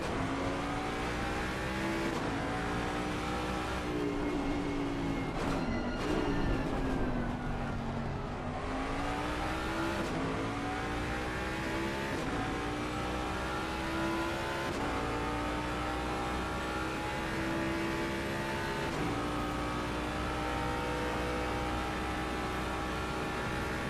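Race cars, among them a Lamborghini, lapping the Bathurst circuit during the Shooting Stars Cup finale: continuous loud engine roar with rising and falling pitch as cars rev and pass, sustained throughout with no talk.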